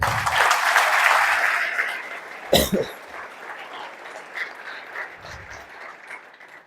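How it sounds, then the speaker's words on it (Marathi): Seated audience members clap for themselves at a motivational success-journey event, a loud burst of applause that fades out within about two seconds, followed by a sharp cough-like noise and quiet room tone. "तर स्वतःसाठी एकदा टाळ्या वाजवा"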